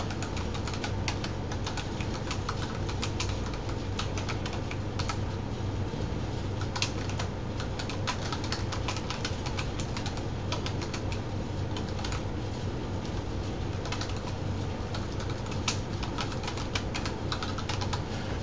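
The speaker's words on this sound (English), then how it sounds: "I'm just gonna type in a little message here." Steady typing on a computer keyboard, a continuous patter of quick close key clicks running throughout with no talking.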